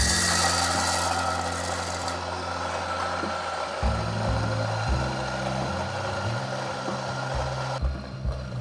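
An Acaia electric coffee grinder grinds espresso beans at its highest speed, a loud steady motor whir with a grinding rasp that shifts pitch partway through, close and alone.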